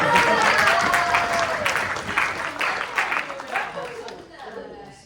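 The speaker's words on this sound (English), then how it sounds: "Can we give her a round of applause?" Audience applause for ex-senator Levine at a student senate meeting, a dense, steady wash of clapping that holds for several seconds and then thins and fades toward the end.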